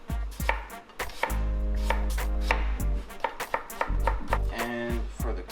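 A kitchen knife slicing fresh ginger on a cutting board gives a rapid run of crisp, close chops, a short pause, then another quick burst of cuts, with no talking.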